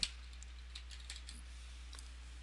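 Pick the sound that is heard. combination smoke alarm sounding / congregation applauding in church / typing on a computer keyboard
typing on a computer keyboard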